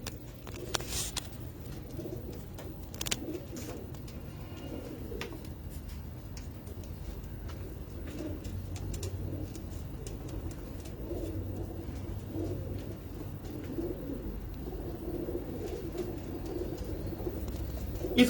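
Soft cooing from a pigeon or dove repeats in low, rolling phrases throughout, faint and steady over a light background hum, with no talking.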